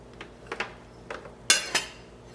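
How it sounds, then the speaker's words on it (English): A knife scraping and clinking against a bowl set inside a cranberry brie wreath appetizer with pecans, a few soft taps followed by two sharper metallic clinks near the end. "now we're gonna attempt to remove the bowl, you guys. So I'm gonna use a knife."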